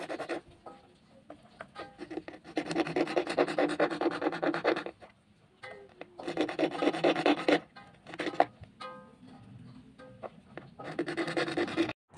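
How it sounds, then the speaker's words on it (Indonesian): Rapid back-and-forth sawing on a plastic RC car wheel rim comes in several long bursts separated by brief pauses, close and fairly loud. "Jadi di bagian ini mau kita gergaji atau mau kita kasih paret."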